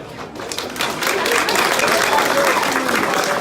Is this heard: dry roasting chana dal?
no